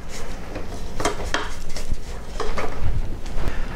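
A spatula scrapes around the sides of a mixing bowl of chocolate chip cookie dough, producing a run of close, soft scuffs and a few sharper clinks against the bowl, with no talking.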